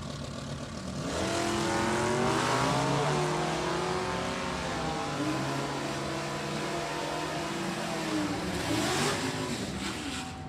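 Stock-class drag racing car at a Division 3 LODRS event accelerating hard down the strip, a loud sustained engine roar with rising pitch that holds steady, then begins to fade toward the end; no talk.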